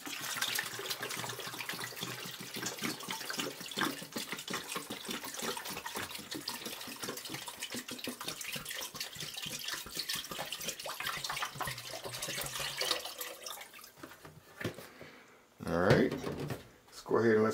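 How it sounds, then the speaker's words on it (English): Water pours steadily into a pot for homemade ginger wine, a continuous splashing rush that fades out near the end, followed by a brief clatter of kitchen handling. "let's go ahead and add in our water"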